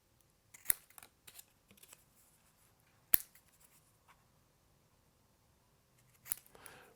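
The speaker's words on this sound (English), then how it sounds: "cut those corners off, cut it into two pieces down between those two scored lines" Scissors cutting card for a pop-up, faint crisp snips scattered across a quiet room, with a few sharper clicks and light handling sounds between.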